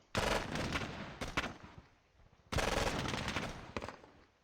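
Gunfire in the Squad Battles war game comes in two bursts of rattling automatic fire with scattered louder cracks, separated by a short lull and heard without speech.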